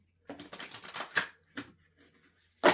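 Quick papery riffles of cards being shuffled, a few short bursts separated by brief pauses, close by.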